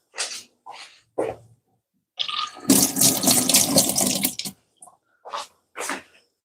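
Running tap water pours over pimento seeds being rinsed in a kitchen sink during preparation of Jamaican oxtail with gungo rice and peas, a steady splashing rush lasting about two seconds, set between short bursts of nearby handling noise.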